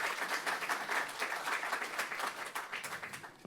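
A seated audience claps for a speaker at a talk, a steady dense patter of many hands that holds evenly and eases off slightly at the end.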